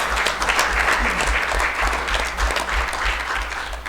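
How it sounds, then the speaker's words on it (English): An audience at a youth summit presentation applauds its legislators, a dense, steady burst of many hands clapping that holds strongly for the whole stretch. "I think you should all applaud your legislators for making it available."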